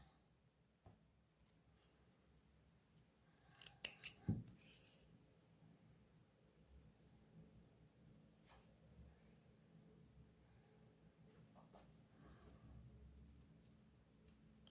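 Scissors snip through a strip of Elastec elastic for a colorful skirt, a short cluster of crisp cuts close by, followed by quiet handling rustle in an otherwise still room.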